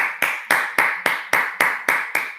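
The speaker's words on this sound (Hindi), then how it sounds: "जोरदार ताली हो जाए लीडर्स" Meeting audience clapping in unison, a loud, even rhythmic beat of about four claps per second, close and dry with no voices over it.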